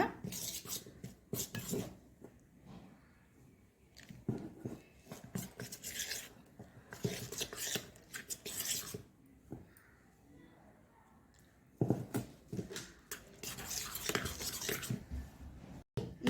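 Maida flour stirred with water into a paste in a bowl: intermittent bursts of spoon scraping and clinking against the dish, separated by quiet pauses, close and fairly faint.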